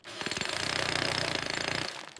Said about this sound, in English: J is for jackhammer.